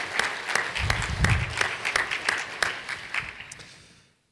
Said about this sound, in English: just a round of applause, if possible, for the team who managed to put all of this together